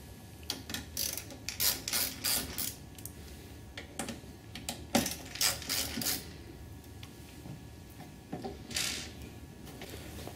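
Screws being backed out of the laser unit on an MXC250/MXC300 Neo multifunction printer, heard as close, intermittent mechanical clicks and ratcheting bursts from a screwdriver, with no talking.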